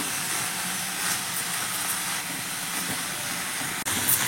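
Chopped radish sautéing in a pan on high heat, making a steady broad hiss that holds constant close by, with one brief clatter near the end.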